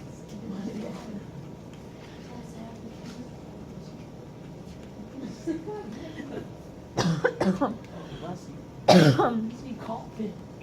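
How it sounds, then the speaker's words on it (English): Two sharp, harsh coughs near the end, loud and close, following a stretch of quiet classroom noise with faint movement. "Thank you for blessing me for my cough."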